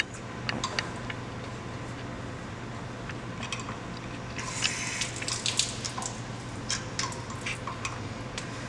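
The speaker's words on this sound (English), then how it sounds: "First thing we're going to do when testing our backflow preventer is flush our test cocks of any dirt and" Water flushes out of the test cocks of a Zurn Wilkins 950XLT2 double check valve backflow preventer, a steady hissing spray over a low hum, with brief splashy bursts partway through.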